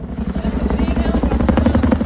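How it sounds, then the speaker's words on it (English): A big helicopter flies overhead during a flood rescue, its rotor beating in a loud, steady, rhythmic chop that holds strongly throughout. "A big helicopter and a big sight for sore eyes."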